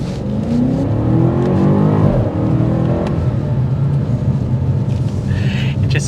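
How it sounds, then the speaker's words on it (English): A 2023 BMW M8 Competition Gran Coupe engine revs up under hard acceleration, its rising drone loud and close from inside the car before settling into a steady roar. "you really want to just keep pushing the gas with this vehicle"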